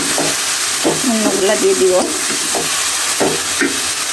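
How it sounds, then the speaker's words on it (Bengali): Chopped potatoes stirred in a pan while cooking a chepa shutki dish, giving a steady sizzle of frying with scraping stirs throughout and a voice speaking briefly over it. "কারণ আলুটা একটু নেড়ে নরম করে নিতে হবে"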